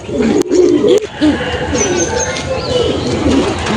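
Madras pigeons coo in low, throaty rolls close by, a steady murmuring call with a couple of brief knocks or flutters early on.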